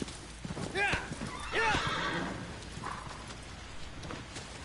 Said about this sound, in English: Come on, horse, get out of there!